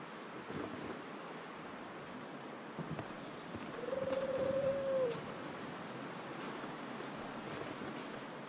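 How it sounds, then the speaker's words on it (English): Steady, hissing snowstorm wind from the survival video game The Long Dark blows continuously, swelling briefly midway alongside a short tonal whine, with faint clicks over the constant rush. "It's a snowstorm."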